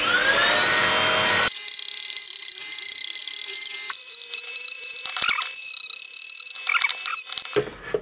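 A high-pitched Dremel rotary tool whines and grinds against 3D-printed plastic, sanding it in bursts with brief pauses and shifts in pitch.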